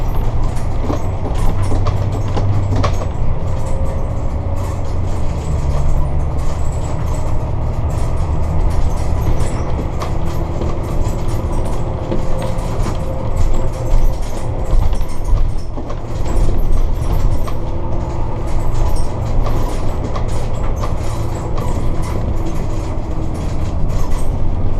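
A diesel coach drives and accelerates, heard from inside the cabin as a loud continuous low rumble and road roar with steady rattling, no talking.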